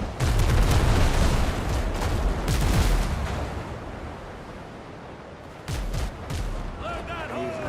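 Ship cannons boom in the Windrose naval game as loud heavy blasts, a dense volley at the start then rumbling fire and a second burst, under excited voices of players talking.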